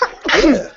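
A person sneezes once, sharp and close, a quick breath followed by the burst, with a brief spoken word just before it.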